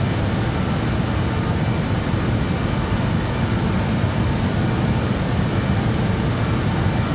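Heavy airliner engines roaring at climb power in Microsoft Flight Simulator 2020, a steady, loud, broadband rumble holding constant for several seconds with no voices.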